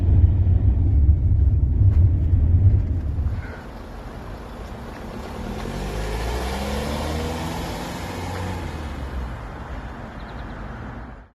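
A diesel van engine rumbles while driving, heavy and loud at first, then dropping to a quieter, steady road drone with faint cabin noise until it cuts off at the end.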